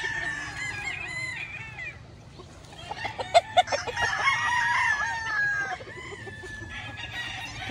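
Chickens feeding in a yard with young stags, with steady clucking and a rooster crowing close by, plus a brief flurry of pecking and scratching sounds midway.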